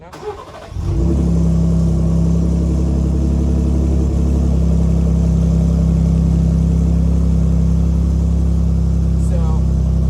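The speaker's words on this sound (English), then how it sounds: "I'm gonna go ahead and push the start button right there" A 2020 Ford F-150 Raptor Super Cab fires up at the push of its start button, a quick crank catching into a loud, steady, deep idle that holds close and continuous for several seconds.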